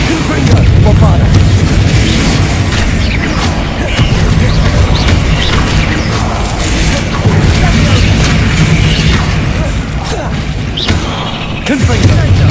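Spell explosions from the Hogwarts Legacy video game, a dense, continuous run of loud booms, thuds and bursts layered over a heavy low rumble for the whole stretch, with brief dips between volleys.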